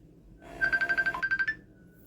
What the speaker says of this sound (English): So I'm calling from Messenger.